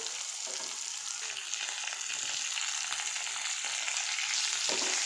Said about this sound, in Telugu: వేరుశనగపప్పు వేసుకొని జీడిపప్పు వేసుకొని ఇవి బాగా వేయించుకున్న తర్వాత